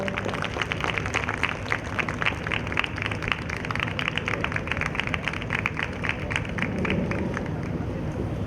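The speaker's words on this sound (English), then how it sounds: "Let's welcome him with a huge round of applause." At a school's silver jubilee inaugural ceremony in Bhopal, an audience claps in a fairly quiet, somewhat distant patter that carries on for about eight seconds over a steady hall hum.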